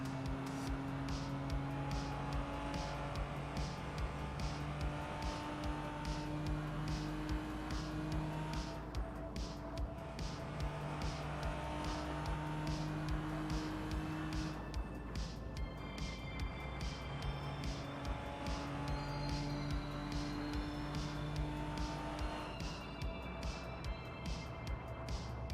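Car engine sounds from the Assetto Corsa driving simulator: a continuous engine drone with shifting revs and occasional tire noise, mixed under steady background music, with no talking.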